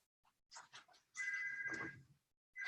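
A telephone ringing indoors, with a sustained electronic ring tone that cuts off and then starts again, fairly close and clear, preceded by brief soft knocks.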